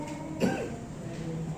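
A single short cough from a woman, fairly faint against a quiet room background.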